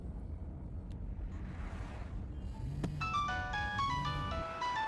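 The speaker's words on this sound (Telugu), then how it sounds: "ఫోన్ రింగ్ అవుతుంది" A phone ringtone starts partway through, a bright electronic melody of repeated tones rising over a windy, rumbling outdoor background and growing louder toward the end.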